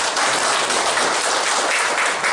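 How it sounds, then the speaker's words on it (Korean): Dense, sustained applause from the audience at the annual general meeting of the Changnyeong Jo clan's Gyeongbuk branch, honoring the outgoing chairman: many hands clapping at once in a loud, even roar that fills the room without pause. "다시 한번 큰 박수 부탁드립니다."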